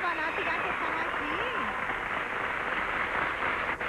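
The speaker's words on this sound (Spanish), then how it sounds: "Vamos a darle un aplauso a todas las fanáticas que están aquí" Audience at a live salsa show applauding fans, a dense steady wash of clapping and crowd noise throughout, with a voice talking over it at the start.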